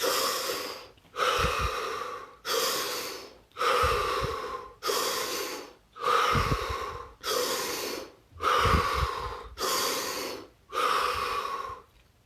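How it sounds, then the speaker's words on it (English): Deep breathing during a guided session: about nine slow, even inhale-exhale cycles, each a loud breathy rush close to the ear, steady in rhythm with short gaps between. "Take 5 deep breaths."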